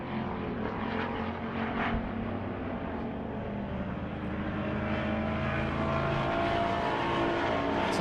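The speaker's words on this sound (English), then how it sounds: "You hear it go by, it sounds like it's buzzing pretty hard." A race car engine buzzes hard at a speedway track championship, a loud, continuous droning whine that holds steady with no voices over it.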